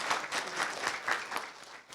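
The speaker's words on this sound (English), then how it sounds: "please give a big applause for Mr. Chan and Ibu Levita." Applause from a conference audience at a franchise strategy business event: steady, moderately loud clapping from many people that fades slightly toward the end, with no talking.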